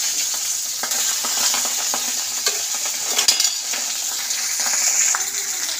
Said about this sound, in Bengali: এই যে মাছগুলো ভাজা হচ্ছে